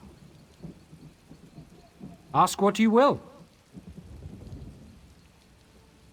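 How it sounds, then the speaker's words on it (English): Steady rain with low rumbling thunder fills an Elder Scrolls Online scene, with a brief spoken line from a character over the storm. "I could do without this damnable rain. It's been storming since we arrived, and it shows no sign of letting up."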